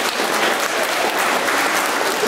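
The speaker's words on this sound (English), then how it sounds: "You can clap now." Audience applause after a spoken-word poetry performance, steady and dense clapping from a crowd filling the whole moment, loud and continuous without a break.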